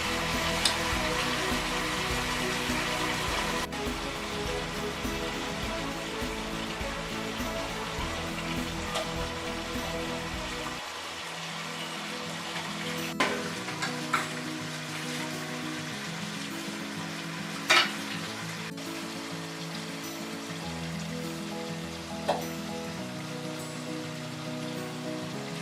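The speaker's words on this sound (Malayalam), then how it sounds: "അതുവരെ നമുക്ക് ഇത് വഴറ്റി കൊടുത്തുകൊണ്ടേ ഇരിക്കണം." Chicken curry sautés in a pan with a soft steady sizzle like light rain, broken by occasional sharp clinks of a spoon against the pan; the sizzle quiets partway through.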